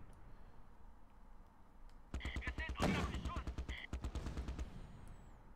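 Machine-gun fire in the wartime strategy game Close Combat Last Stand Arnhem, a rapid rattling burst of repeated shots lasting a couple of seconds after a quiet stretch, fairly near and under faint background ambience.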